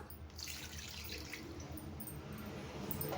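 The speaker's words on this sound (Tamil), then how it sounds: "மிக்ஸி சாரை அலசிட்டு தண்ணி சேர்த்துக்கலாம்" Water runs steadily from a tap as a mixer jar is rinsed out and the water poured into mutton for Chettinad biryani, a continuous close splashing wash with no talk.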